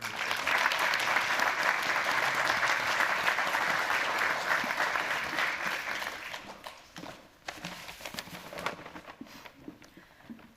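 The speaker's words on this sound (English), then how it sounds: "to get one more round of applause for Colonel" Sustained audience applause at a university Air Force ROTC pinning and first salute ceremony, loud and dense for several seconds, then thinning out into scattered claps that fade toward the end.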